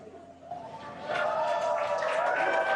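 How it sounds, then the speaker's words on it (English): A crowd gathered outside SpaceX Mission Control in Hawthorne before a Falcon 9 launch cheers and whoops, rising from a murmur into sustained, fairly distant cheering. "some happy cheers as the crowd is growing outside of Mission Control Hawthorne"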